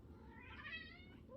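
A house cat named Oliver meows once indoors, a faint rising-and-falling cry over low room hum, with no talking.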